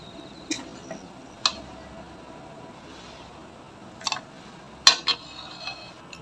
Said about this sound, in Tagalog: Sasalain natin yung ingredient natin na ginisa.